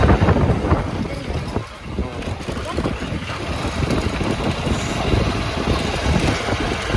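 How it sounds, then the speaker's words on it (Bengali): Wind buffets the microphone during a motorbike ride, a loud, steady roaring rush with the engine hum faintly beneath it, continuous throughout with a brief dip partway. "আর এত হাওয়া দিচ্ছে, আওয়াজ আদৌ আসছে?"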